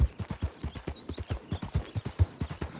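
Horse hooves clip-clop steadily in a video game, a brisk, even rhythm of distinct hoof strikes at a moderate distance, with no other sound competing.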